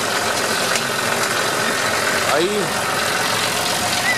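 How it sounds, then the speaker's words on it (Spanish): A tractor engine drones steadily while sweet corn is harvested in a field in Santa Margarita, Catemu, with a loud, constant mid-pitched rumble and someone talking over it. "manejando el tractor, manejando la rampla."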